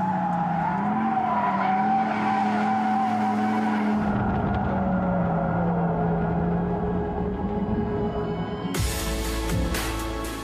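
Audi R8 GT drifting with a long, loud tire squeal wavering over engine roar, close and continuous, shifting in pitch as the slide develops and ending with a sudden harsher burst of noise.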